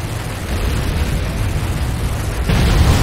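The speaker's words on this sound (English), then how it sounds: "GDI advanced guard tower destroyed." A GDI advanced guard tower blows up in the Renegade video game, with a dense rumbling blast that swells louder near the end over a steady roar of battle noise.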